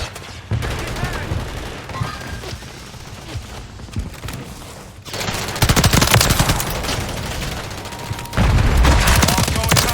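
Gunfire in the video game Modern Warfare 3: scattered shots at first, then dense loud automatic bursts with heavy booms, game voices calling out between and under the fire.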